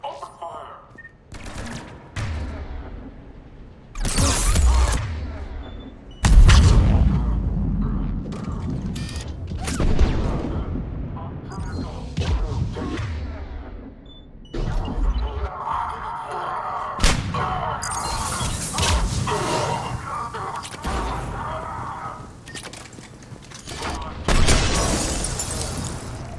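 Sustained gunfire and explosions from a firefight in the video game Mass Effect 3, with repeated loud bursts, booms and mechanical clatter across the stretch, sometimes under brief shouted voices.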